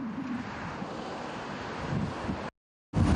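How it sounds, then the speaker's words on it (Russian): Strong wind gusts during wildfire smoke conditions in the Zhetysu region, reaching about 22 metres per second, blowing as a steady loud broadband roar against the microphone, cut off briefly near the end before resuming. "сейчас порывы доходят до 22 метров в секунду"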